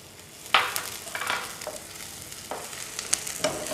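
Spring onions fry in oil over a high flame, close sizzling and crackling with bursts of stirring scrapes, the onions scorching quickly.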